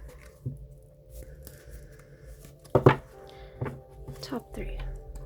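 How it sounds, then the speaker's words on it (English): Oracle cards are shuffled by hand in a few quick bursts of soft papery riffling and tapping, close up against a quiet indoor hum. "I am going to do a quick shuffle through right now."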